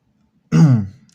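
A man with a dry throat gives one short, close throat clearing that rises abruptly, rasps for about half a second and fades, with near silence before and after.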